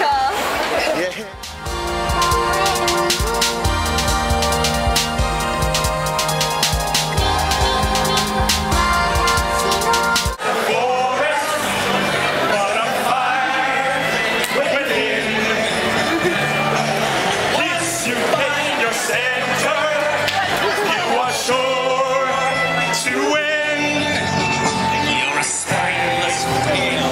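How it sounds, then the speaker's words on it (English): Dense crowd chatter fills a busy anime convention hall at Otakon 2012, full of costumed fans, with a steady murmur, scattered laughter and nearby voices talking over the din. "Wow, look at this crowd."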